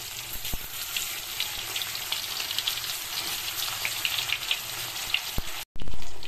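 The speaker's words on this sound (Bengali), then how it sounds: "একটু নুন হলুদ দিয়ে মেখে একটু পটলে ভেজে নেব" Pointed gourd (potol) coated in salt and turmeric fries in oil with a dense, steady crackling sizzle close by; the sound cuts out abruptly near the end, then returns louder.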